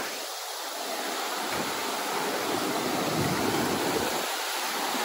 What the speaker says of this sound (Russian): Привет, водопад!